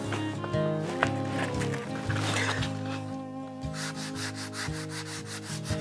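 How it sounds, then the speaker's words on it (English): Steady rasping of sandpaper worked back and forth over an oak chair, close and continuous, with rhythmic strokes and faint music underneath. "So we'll get started with some sanding."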